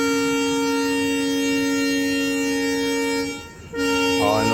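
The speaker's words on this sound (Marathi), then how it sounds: "हॉर्न वाजलेला आहे ट्रेनचा" A train horn blares before the train leaves a station on the return journey to Mumbai: one long steady tone with a short gap, then a second blast that begins to waver, loud and close.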